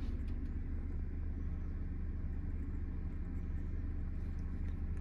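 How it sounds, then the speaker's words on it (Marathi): Heard from inside, a car engine hums with a steady, low rumble during a driving lesson as the clutch is slowly let out. The drone is continuous and even, with no voices. "हळूहळू क्लच सोडा."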